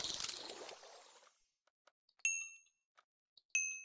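Golemancer's bell from the Thaumcraft 4 Minecraft mod rings two bright, short metallic dings about a second apart, each alone and clear, after a fading burst of noise with faint clicks between.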